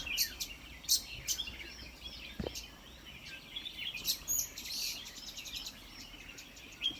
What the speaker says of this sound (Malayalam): കിളികളുടെ സൗണ്ട് കേൾക്കണം